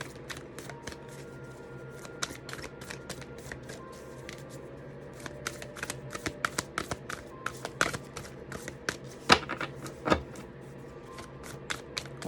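A new deck of oracle cards is shuffled in quick, crisp riffles and taps that come in bursts, close and quiet, with no talking.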